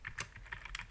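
Quick, soft clicks of a computer keyboard during drafting work in Revit, a brief burst of several keystrokes heard alone and fairly quiet.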